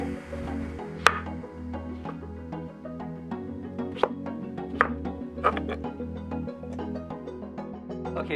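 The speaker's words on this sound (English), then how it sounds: "Now I'm gonna chop these up." Peaches are chopped with a knife on a cutting board, making soft irregular taps and a few sharper knocks over a quiet hum in a kitchen.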